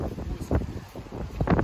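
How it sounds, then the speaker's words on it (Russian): Gusty wind buffets the microphone in low, rumbling bursts, steady and close, with no voices. "уже дождик, ветер поднялся."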